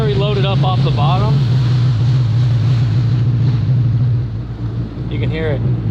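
A Yamaha FZ1200R motorcycle engine with a D-plate exhaust drones steadily and close, a loud low hum mixed with wind buffeting, while a person talks over it.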